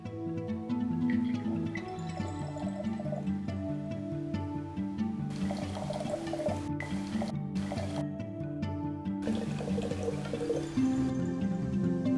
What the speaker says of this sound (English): So let's pour some wine.